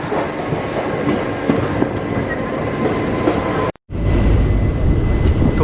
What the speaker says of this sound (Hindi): तो हमारी ट्रेन का यहाँ से डिपार्चर हो गया